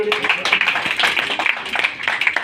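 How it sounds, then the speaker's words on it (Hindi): A small group at a Hindi poetry gathering, a kavi sammelan, claps in uneven, fairly close bursts for a couple of seconds, with individual hand claps distinct rather than blending into a full wash. "ये तालियों के हकदार।"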